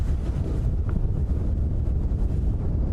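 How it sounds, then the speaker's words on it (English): Steady howling wind buffets the microphone on a cold, windy sunrise safari game drive, a continuous low roar with no gaps and no voices. "I'm sure you can hear the wind howling"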